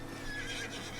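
A horse whinnies faintly at a distance, a brief neigh over steady low outdoor rumble, among teams of horses pulling wagons.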